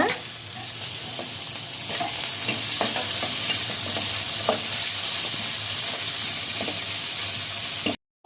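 Onion and capsicum stir-fried in a pan for Schezwan fried rice: a steady, close sizzle with repeated scraping stirs throughout, then a sudden stop at the end.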